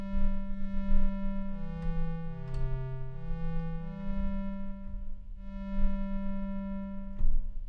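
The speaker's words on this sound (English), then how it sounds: "it's like it's a triangle and a sine wave put together" A steady synthesizer tone blending triangle and sine waves, smooth and slightly buzzy, glides between pitches, its notes bending up and down continuously.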